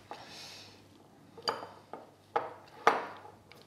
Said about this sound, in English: Just give that a final mix with the spatula.